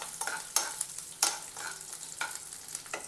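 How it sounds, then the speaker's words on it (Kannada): Curry leaves and finely chopped garlic fry in a pan for Mangalore-style chicken sukka, with a soft steady sizzle broken by several sharp stirring scrapes spaced through the moment. "ಫ್ರೈ ಮಾಡ್ಕೊಬೇಕು"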